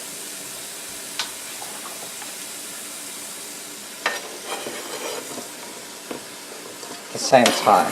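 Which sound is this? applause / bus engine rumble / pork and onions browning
pork and onions browning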